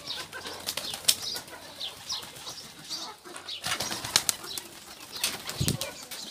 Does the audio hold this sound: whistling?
no